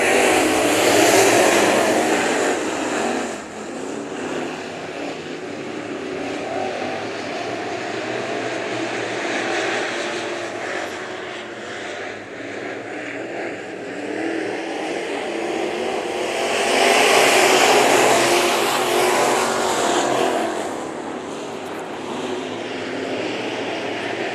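Sport Mod race cars roar around Bakersfield Speedway, a dirt oval, in a continuous engine drone that rises and falls as the pack passes, louder at the start and again near the end, with no talking.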